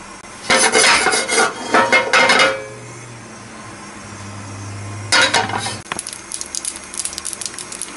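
Brown mustard seeds crackle and pop in hot oil in a pan, two dense bursts of sharp sizzling pops separated by a quieter simmering stretch, close and fairly loud with no voices.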